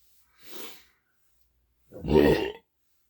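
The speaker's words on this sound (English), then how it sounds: "Carbonation is low, yet I still had that big burp, which is weird." A soft breathy exhale followed by one loud, deep, rumbling burp up close after drinking porter beer, then silence.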